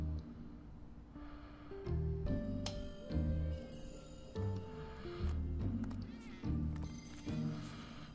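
A cat meows in Final Fantasy 7 Remake, a few short cries over game music and ambient sound, moderately loud and in the foreground.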